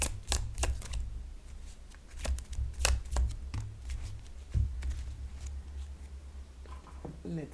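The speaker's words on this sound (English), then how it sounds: "let's take some dialogue message cards and see what's going on between you and your person" Tarot and message cards are shuffled and flicked by hand, giving a run of crisp, irregular riffling taps and slaps close by, mixed with a speaking voice.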